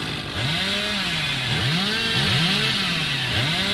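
Chainsaw revving in Dead by Daylight as it strikes a survivor, a loud continuous motor whine that swoops up and down in repeated arcs over a dense buzzing layer throughout.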